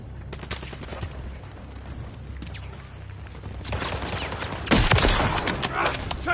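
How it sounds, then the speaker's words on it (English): Rapid gunfire rattles in a Call of Duty match, scattered distant shots giving way to a louder, heavier fusillade of automatic fire near the end. "Taking effective fire."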